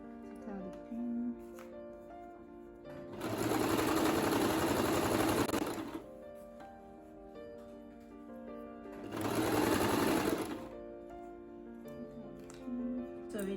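Two bursts of a sewing machine stitching a zipper down and back-stitching, each a few seconds of steady fast whirring, close and fairly loud, with quiet gaps and faint handling between them.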